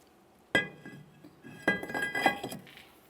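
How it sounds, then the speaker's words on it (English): A metal brake rotor clinks as it is slid back onto the wheel bearing hub of a 2017-2024 GMC Acadia, a sharp knock followed by a few lighter rattling clinks, close by. "Let's reinstall our brake rotor."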